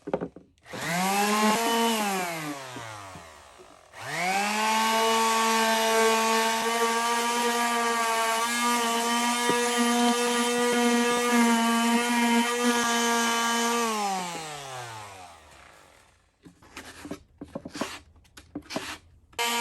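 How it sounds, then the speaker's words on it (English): A power sander works wood during a campervan build. The motor whines up briefly, winds down, then spins up again to a steady, loud buzzing drone for about ten seconds before winding down into scattered quiet clatter. "let's try sanding this down a little bit"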